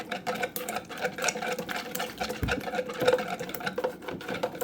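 A spoon stirs gelatin in a bowl to dissolve it, making quiet, continuous rhythmic clinking and swishing close by.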